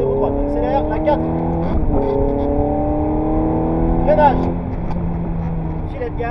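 Ferrari F430 accelerating hard in fourth gear on the Mettet race circuit, a loud rising engine drone heard from inside the car, with a brief dip around a shift before it climbs again.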